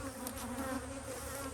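Bees in an apiary hive hum in a dense, steady buzz, close and fairly quiet, with no other sounds breaking through.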